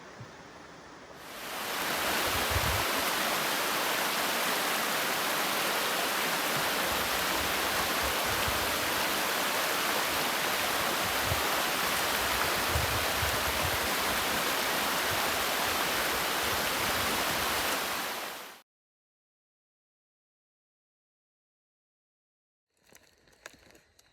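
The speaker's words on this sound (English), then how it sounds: "We're crossing over the bridge, the first bridge that we've had to cross over a creek." A deep creek flowing beneath a bridge on the Ozark Highlands Trail, a loud steady rushing wash that holds for about seventeen seconds and then cuts out abruptly into silence.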